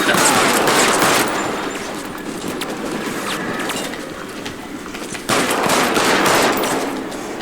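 Sustained gunfire in a firefight in L.A. Noire, loud machine-gun bursts rattling almost without pause, easing briefly in the middle before a fresh heavy volley.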